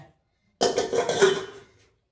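Pots, dishes and cutlery clatter and scrape together during a short burst of washing up in a home kitchen, loud and close, then fade away.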